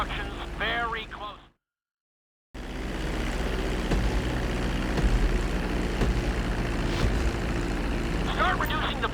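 Propeller airplane engine in GTA 5 droning steadily as the aircraft descends toward a runway to land, loud and continuous after a brief gap, with a voice speaking over the start and end.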